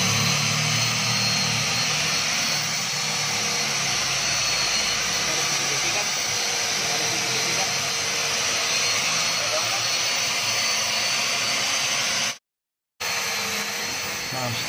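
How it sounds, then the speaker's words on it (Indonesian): A wire brush grinder scrubs a natural stone surface, a loud, steady, harsh whirring roar that runs nearly nonstop at close range and cuts out briefly near the end. "Setelah beberapa kali kita gosok dengan gerinda kawat ini, permukaan akan tampak lebih hitam ya guys."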